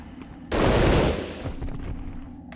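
A submachine gun fires a short rapid burst in the Medal of Honor Underground video game, loud and close, trailing into a lingering echoing tail.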